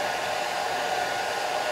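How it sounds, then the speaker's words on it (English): Hair dryer blowing extra moisture off a wet watercolor flower painting, a steady close whooshing roar with no break, alone with no voices. "So I'm blow drying"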